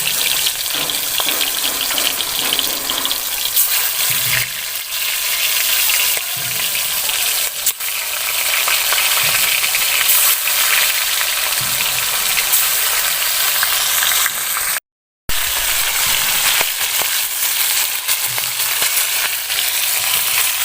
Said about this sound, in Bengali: তেল গরম হয়ে এসেছে, এবার আমি সব মাছগুলো ভেজে নেব।